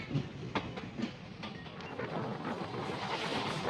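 A Howrah–Balurghat Express passenger train runs along the track past green rice fields, a steady rumbling wagon roar with faint rhythmic clicks, moderately loud and continuous, with no talk.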